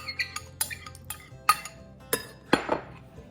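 Diced tomatoes tossed in a bowl with a utensil, giving a series of soft clinks and scrapes at an irregular pace, close and quiet, with no talk.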